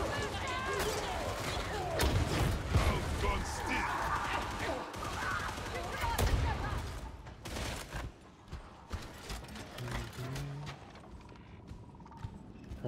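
Gunfire in the video game Warhammer 40,000: Darktide, in the Consignment Yard area, comes as dense bursts of shots and clanking mechanisms amid busy combat noise. The shots thin out into scattered, quieter reports, with a voice talking at times.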